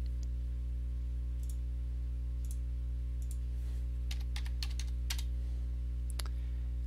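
Typing on a computer keyboard during CAD sketch work, sparse clicks and short bursts of keystrokes, faint over a steady low electrical hum.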